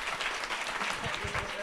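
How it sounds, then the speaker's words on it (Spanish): Audience applause at a live comedy show in a Palermo theatre bar, a steady wash of clapping lasting under two seconds with some voices mixed in. "¡Aplauso para nuestra amiga!"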